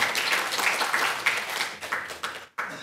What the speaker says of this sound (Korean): 말씀을 전하신 분에게 박수를 쳐준 사례는 처음입니다.